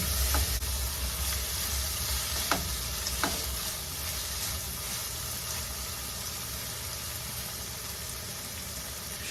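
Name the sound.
boiled peas added and stirred into frying upma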